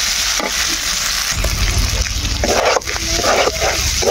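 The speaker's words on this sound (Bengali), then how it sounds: "প্রথমে এরকম ভাবে বট ভাজলাম, কোনো ঝোল নাই, একেবারে ভাজা ভাজা।" Tripe (bot) fries in a pan with a loud, continuous sizzle and scraping stirs, while a dog barks a few times in the background.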